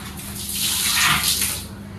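Water for mopping a floor at home gushes and splashes in a short, steady rush that swells in the middle and then eases slightly, with a low hum underneath.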